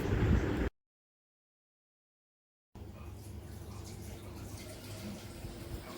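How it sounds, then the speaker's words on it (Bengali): Water runs from a tap for bathing in a home bathroom: a short gush, a stretch of silence, then a steady, moderately close stream of flowing water that continues to the end. "এখন আমি স্নান করতে যাব"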